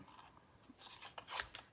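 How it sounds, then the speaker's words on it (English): Scissors snipping through paper in a few short, soft cuts, close by, with a brief brighter snip near the end. "we're going to just cut out with scissors"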